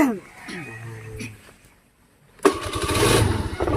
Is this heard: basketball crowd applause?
no